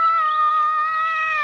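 A cat gives a single long, drawn-out meow, clear and close, holding a steady tone for over a second before it trails off.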